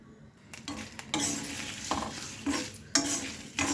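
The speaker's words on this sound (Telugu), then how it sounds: "నేనైతే ఆయిల్ లేకుండానే వేయిస్తున్నానండి" Dried red chillies and coconut being dry-roasted in a pan without oil, with repeated scraping and stirring bursts of a utensil against the pan and light crackling, close and fairly quiet, with no talking.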